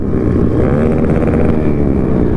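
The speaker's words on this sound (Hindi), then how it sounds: "क्या गाड़ी है ये ओ भाई आवाज़ सुन रहे हो" A motorcycle at a bikers' meet-up in Jagdalpur runs loud and close, its engine throbbing with a deep, steady, rumbling drone and slight swells of revving, with no talk over it.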